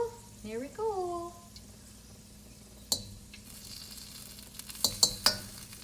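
Egg and noodles frying in a pan for drunken noodles, with a brief voice at the start, then sharp sizzling bursts as food hits the hot pan and a faint hiss between them.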